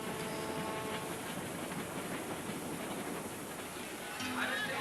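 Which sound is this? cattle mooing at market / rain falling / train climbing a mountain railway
train climbing a mountain railway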